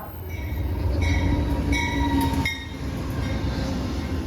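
A passenger train pulls into Alexandria station on track 2, a steady close rumble of rolling wheels and cars with faint high squeals, continuous and loud throughout with no talking.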